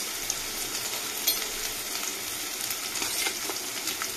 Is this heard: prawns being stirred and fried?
yes